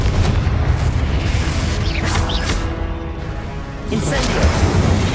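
Confringo fire spells explode in Hogwarts Legacy, heavy booming blasts rumbling close and loud while a voice calls out spell names over them.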